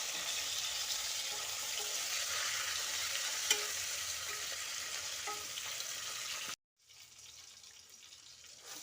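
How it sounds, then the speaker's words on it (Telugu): Eggplant pieces frying in a pan with salt and mint, a steady broadband sizzle with occasional stirring clinks, cut briefly by a short silent gap before the frying hiss resumes. "వంకాయలు ఈ విధంగా వేగాలండి."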